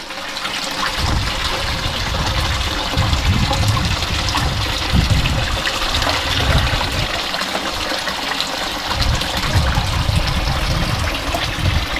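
Water trickling and splashing steadily into a koi pond, a constant loud close wash of flowing liquid with a gurgling low rumble, no voices.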